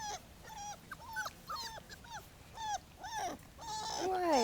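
Four-week-old Bullmastiff puppies whimper and whine in repeated short high cries, several overlapping near the listener, rising into a longer squeal at the end.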